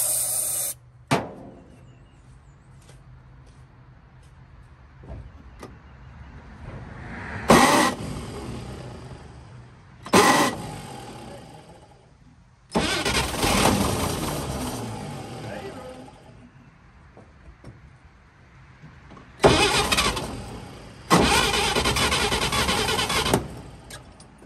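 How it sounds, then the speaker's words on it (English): A 1953 GMC 1-ton truck, idle for over 20 years and leaking fuel from the carburetor, cranks in several loud bursts separated by quieter gaps, with people talking between attempts. "That was the first rollover too."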